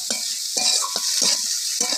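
Chopped egg and vegetables frying in a wok (kadai), a bright, loud sizzle with a series of close spatula scrapes and knocks roughly every half second.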